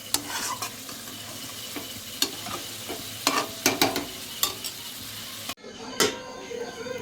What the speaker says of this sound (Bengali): আমি কিন্তু একদম লো ফ্লেমে সুন্দরভাবে কষিয়ে নিয়েছি।